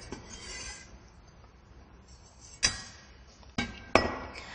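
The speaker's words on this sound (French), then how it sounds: "nous allons hacher nos condiments" A knife chops garlic and condiments for a pork filling for Chinese dumplings (jiao zi): three sharp, close chops on a board, spaced unevenly, after a few seconds of near quiet.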